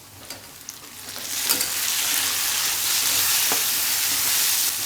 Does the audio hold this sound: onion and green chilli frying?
yes